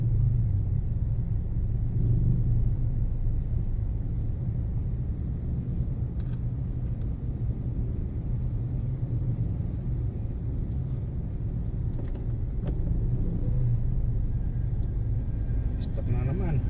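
Heavy afternoon traffic on a road from PITX toward C5, a steady low rumble of cars and engines from start to end, with a voice talking over it.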